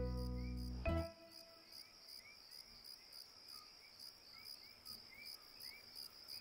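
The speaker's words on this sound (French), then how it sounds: "Ce sont les grillons, murmura Miffy. Ils chantent toujours la nuit." Crickets chirp at night in a steady, faint, evenly pulsing trill that continues alone after a loud low tone cuts off near the start.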